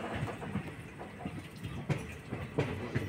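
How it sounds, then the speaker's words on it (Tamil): Silambu Express train rolling into Srivilliputhur railway station, heard from on board as a busy rhythmic clatter of wheels over rail joints with repeated clanks, fairly loud and close. "நம்ம ட்ரெயின் இப்போது ஸ்ரீவில்லிபுத்தூர் ரயில்வே ஸ்டேஷனுக்குள்ளே என்டர் ஆகி போயிட்டுருக்கு"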